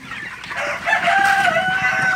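Broiler chickens in a poultry shed cluck and call in a busy overlapping chorus, fairly close and steady.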